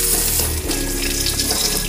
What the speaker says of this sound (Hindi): रसुण पकईदवा। Friends A रसुण पकई the.